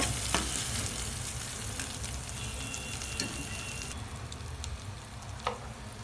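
Garlic masala paste fries in a pan for lasooni chicken, a steady close sizzle with occasional light scrapes of stirring and no voices.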